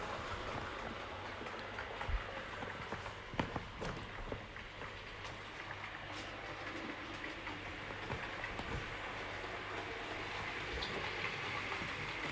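Small Prairie tank locomotive running with coaches on a model railway, a continuous low rolling rumble with occasional faint clicks and knocks, steady and moderately quiet throughout.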